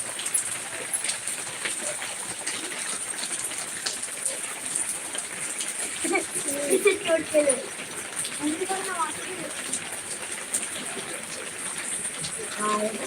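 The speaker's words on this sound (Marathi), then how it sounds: "पाऊस चालू आहे पाऊस चालू आहे आपल्या इथं" Steady rain falls throughout a live broadcast in Pandharpur, a continuous hiss of drops on surfaces, with people talking over it partway through.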